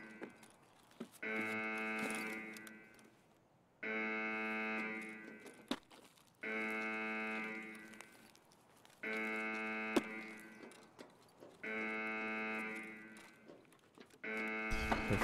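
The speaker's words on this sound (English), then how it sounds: "Fucking siren, man." A loud, droning alarm siren in the Escape from Tarkov video game sounds in long repeated blasts of about two seconds each, separated by short gaps, with a few faint clicks and thumps underneath.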